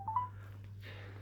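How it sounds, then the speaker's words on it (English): A telephone dials out to a law firm, giving a couple of short, clear keypad tones close up, followed by a faint hum of the line with no talking. "ringing up Jonathan Smith."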